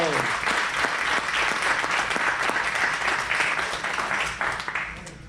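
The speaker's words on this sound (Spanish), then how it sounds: "Denle un aplauso al Rey." A church congregation applauds for the King during a Spanish-language sermon, a loud, dense, sustained burst of clapping with a few voices mixed in, tapering slightly at the end.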